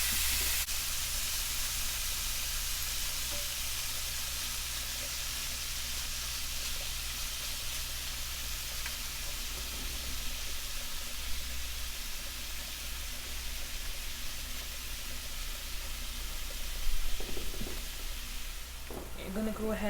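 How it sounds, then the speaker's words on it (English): Scallops and shrimp fry in a large pan as a steady, fairly faint hiss that runs throughout and swells slightly near the end, with some quiet background noise. "in a large pan, I guess we're going to fry or whatever our scallops and shrimps"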